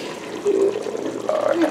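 Homemade sauce bubbles in a pot, a brief run of soft wet pops and gurgles heard close for under two seconds, with no talk.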